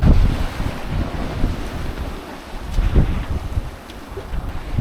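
Strong wind buffets the microphone in gusts aboard a sailboat about 10 miles southeast of Marmaris, Turkey, with rushing sea and wave wash beneath, loud and continuous with no voices.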